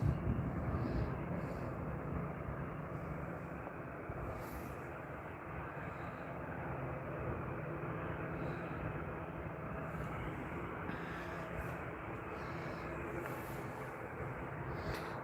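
A Norwegian airliner at Stockholm Arlanda Airport produces a steady, distant jet engine rumble that holds at an even level throughout, with no talk.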